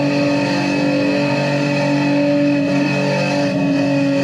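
A Datsun Z race car engine in a racing simulator holds a loud, steady drone at high revs, continuous and close with no break.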